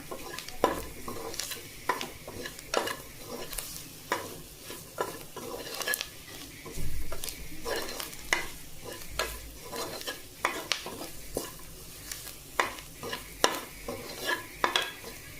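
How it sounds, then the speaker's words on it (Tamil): Chicken masala sautéed in oil in a pot for chicken kulambu, a steady sizzle broken by repeated scraping strokes of a spoon against the pan, loud and close with no talking. "போட்டுட்டு இந்த எண்ணெயிலே லேசாக வதக்கி விட்டுக்கலாம்"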